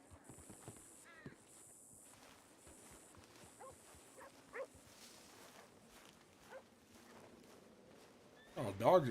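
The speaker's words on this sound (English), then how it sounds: "Oh, dogs around here." Dogs bark in a Wild West roleplay video game, appearing as several short, fairly faint barks mid-clip over background game ambience and hooves, with a louder burst of noise at the end.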